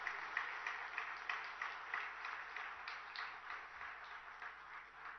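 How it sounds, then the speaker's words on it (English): Audience applause at the Google for Startups Hub launch at T-Hub, held with the Telangana government: steady clapping from a crowd, moderately distant and fairly faint, continuing evenly before tapering slightly. "Can we have a huge round of applause?"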